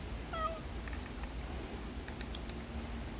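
A cat gives a short meow outdoors by a river while being offered food after a fishing trip, one brief cry near the start over low background noise.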